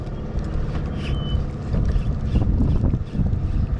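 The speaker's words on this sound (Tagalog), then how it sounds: "Walang harang, kaya mahangin at maalon-alon" Steady wind buffeting the microphone with churning water and waves at an open, unsheltered spot at sea, a continuous loud roar throughout.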